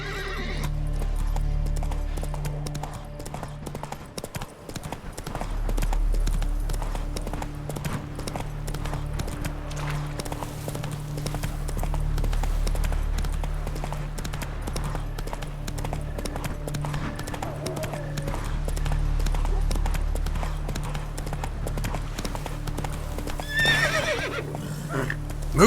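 Horse galloping in the Witcher video game, steady rhythmic hoofbeats with recurring whinnies and neighs, heard up close over a low continuous rumble.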